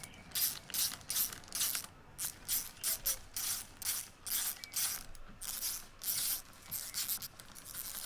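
A ratchet drives bolts back into the back plate of a Milwaukee Quik Lok hedge trimmer, a close, steady run of rapid clicking bursts with short pauses between strokes.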